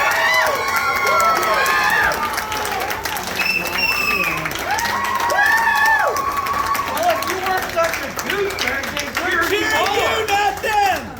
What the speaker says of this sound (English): This is the only time you're going to cheer me. Could you do it a little bit louder?